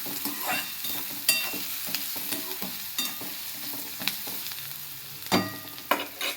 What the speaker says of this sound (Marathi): तर इथं कांदा भाजत असताना आपण थोडंसं मीठ घालायचं, म्हणजे कांदा पटकन भाजतो आपला.